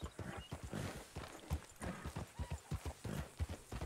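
Hooves of a thoroughbred dapple grey horse in RedM drum out a quick, rhythmic clip-clop, moderately close and fairly quiet, with no talk over them.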